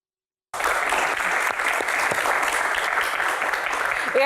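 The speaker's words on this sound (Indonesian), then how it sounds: "Tepuk tangan untuk Mas Ikang Fauzi sekali lagi." Studio audience applauding for guest Ikang Fawzi on a television Q&A talk show, steady dense clapping that starts abruptly after a moment of silence and carries on loud and even throughout.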